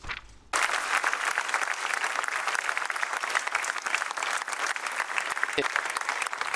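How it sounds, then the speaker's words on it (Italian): Mourners at a funeral outside Madonna del Ponte cathedral break into long, sustained applause as the coffin is carried, a steady crowd roar of clapping with a brief murmur of voices at the start. "Un lungo applauso ha accompagnato il feretro dalla Camera Ardente allestita nella casa di conversazione alla Cattedrale della Madonna del Ponte"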